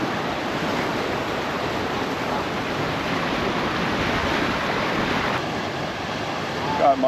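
The flooded, dangerously high Humber River rushes in a steady, loud, broadband roar of turbulent water that continues without a break, with some wind buffeting the microphone near the end.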